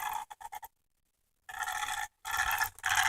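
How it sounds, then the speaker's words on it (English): Motor of a TLR 22T RC car at very low throttle, giving harsh raspy bursts: a few short stutters, a gap of silence, then two longer gritty buzzing spells, close and fairly loud. "that's when the motor sounds um when it tries to go on very low throttle"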